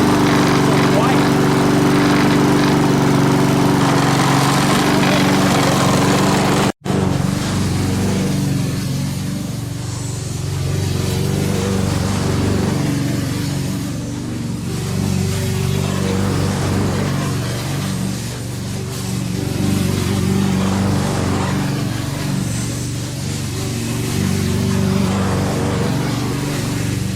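A Honda lawn mower engine runs steadily and loudly throughout, a continuous close drone with slight swells in pitch, interrupted only by a brief dropout early on.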